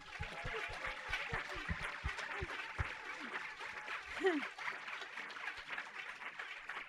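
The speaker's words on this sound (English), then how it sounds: "I just want to give a big, big, big, big clap to Eileen for all the food." Audience applause at a thru-hike recap gathering, a dense patter of many hands clapping at moderate distance, with a few sharp individual claps early on and a voice or chuckle briefly heard through it.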